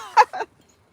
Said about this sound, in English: I got birds back there